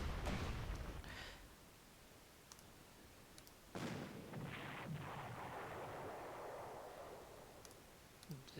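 Artillery fire in the WWII strategy game Panzer Corps during a Moscow street battle scenario, a pair of deep booming blasts with rumbling tails several seconds apart, mid-level and without talk.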